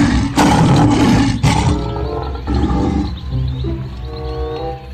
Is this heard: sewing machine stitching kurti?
no